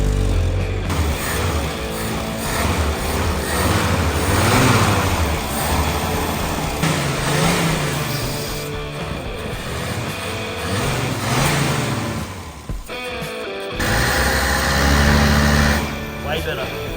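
A Holden VL Commodore with an LS1 V8, revived after sitting for 30 years, runs loud and steady with rough engine rumble and revving surges, briefly dropping out near the end before roaring back, with voices talking over it.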